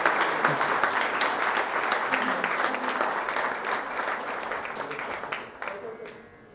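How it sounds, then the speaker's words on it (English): An audience at the NGMA gallery event breaks into a big round of applause, dense clapping from many people that holds steady and then thins out and fades near the end. "Can we have a big round of applause"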